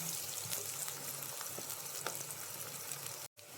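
Onions frying in a pan until browned for a beef liver roast, giving a steady close sizzle with faint stirring scrapes, then a brief drop to silence near the end.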